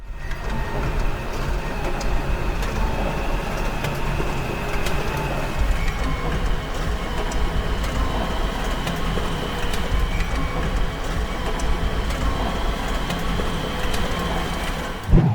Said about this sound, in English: After preparation, the peanuts are fed into a grinder.